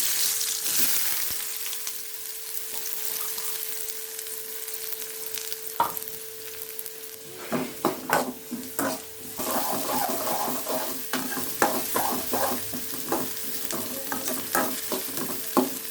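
Chopped onions hit hot groundnut oil in a pan, giving a continuous sizzle and frying hiss, with a spoon stirring and scraping in bursts through the second half.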